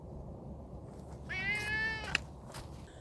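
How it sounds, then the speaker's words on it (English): A hungry farm cat, Eb, lets out a single drawn-out meow at close range during a fall harvest, standing out over a steady low background hum. "And our starving cat has arrived."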